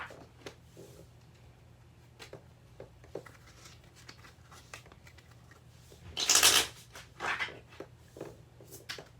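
Oracle cards are shuffled by hand in a quiet room, soft riffling and tapping building to a brief, louder burst of rapid flicks before settling back into light shuffles.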